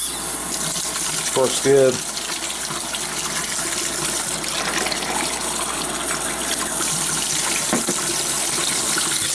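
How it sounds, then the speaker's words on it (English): Water runs steadily from a tap through a filter as homebrewing water is collected, making a constant close gush that continues throughout. Someone speaks briefly over the flow near the start. "Instead of filling up a little bit and then waiting, now I got nice clean water."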